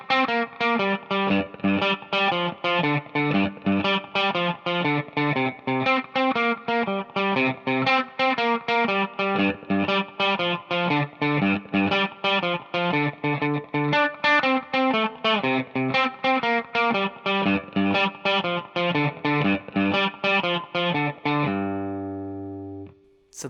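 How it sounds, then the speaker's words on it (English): Electric guitar with distortion and chorus effects plays a steady, repeating 12-bar blues box-pattern riff, moving around the neck in an even rhythm, loud and alone until a final ringing chord. "we're going to use this really cool kind of box pattern that takes us through the rhythm part"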